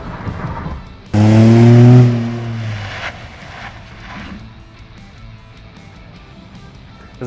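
A Z1 off-road vehicle drives hard and brakes to bed in new rear big brakes, a loud engine roar rising briefly before dropping to a low rumble and fading.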